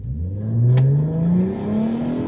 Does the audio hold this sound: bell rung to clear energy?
no